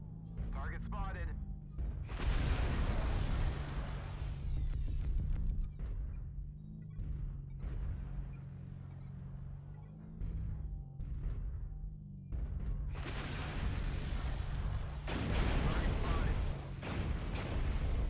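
Heavy weapons fire from large sniper-style guns in a MechWarrior-style battle, repeated booming blasts and bursts rolling through most of the stretch, loud and close, while players talk over the action.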